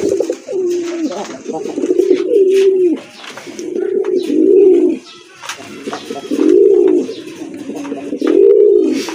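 Native deshi pigeons coo loudly and close by in repeated rolling phrases, with short pauses between them and a faint background rustle.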